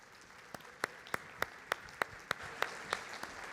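A small audience gives a welcoming applause for speaker Samir Estefan at an education event, sparse distinct claps spaced at a steady rhythm, fairly faint, set against a quiet hum.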